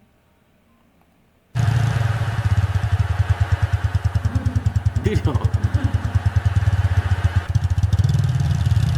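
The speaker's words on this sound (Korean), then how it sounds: "오토바이 소리도 나고 파도 소리도 나고요" An AI-generated motorcycle engine starts abruptly and settles into a loud, close, rapid pulsing idle that runs for several seconds, with a brief rising rev in the middle and a short word spoken over it.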